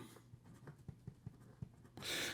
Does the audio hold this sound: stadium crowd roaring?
no